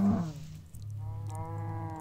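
Cows mooing in the video game Minecraft: two low, drawn-out bovine moos in quick succession, fairly close and clear, with no talk over them.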